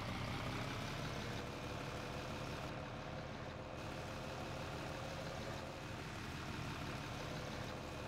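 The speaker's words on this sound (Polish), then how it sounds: "posłuchajcie teraz, jak będzie brzmiał ten traktor." A Fendt Favorit 500 tractor in Farming Simulator 17 runs with a steady, low engine drone that holds constant throughout, fairly faint and with no one talking.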